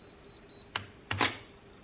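A camera shutter fires for a 0.3 second exposure of a record spinning at 33 RPM, giving two quiet, sharp clicks about a third of a second apart against near silence.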